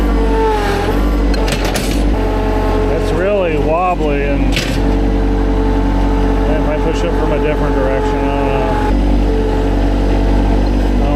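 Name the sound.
tractor engine straining while pushing over a tree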